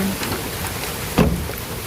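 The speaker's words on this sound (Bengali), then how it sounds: "প্রচুর পরিমাণ বৃষ্টি হচ্ছে" Heavy rain pours down steadily outdoors, with a parked car getting soaked, a continuous broadband hiss with one brief louder splash or gust partway through.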